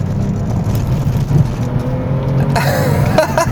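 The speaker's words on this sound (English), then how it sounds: "You can come down here, heel and toe downshift." A BMW 630i with its N52 straight-six and manual gearbox, heard up close on the road with a steady engine drone that breaks into sharp, quick rev blips near the end during a heel-and-toe downshift.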